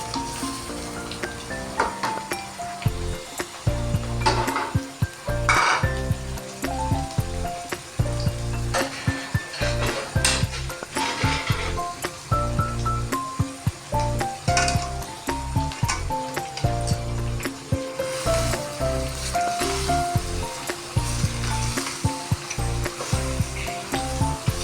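Boiled pieces of beef butt tipped into a hot frying pan, giving a loud, steady sizzle with crackling pops and stirring scrapes that continue without a break and with no talking.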